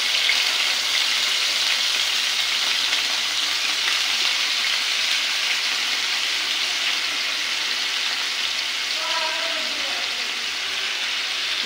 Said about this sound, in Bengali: এবারে গরম তেলে মাংসগুলো হালকা করে ভেজে নেব।